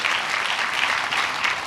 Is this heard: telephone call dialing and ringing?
no